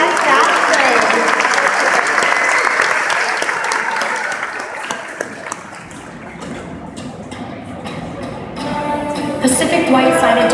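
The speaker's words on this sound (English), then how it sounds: "a big round of applause for my special guest, Madison." Audience applause at a beluga show, loud sustained clapping from a crowd that fades slightly mid-way and swells again near the end, with some voices mixed in.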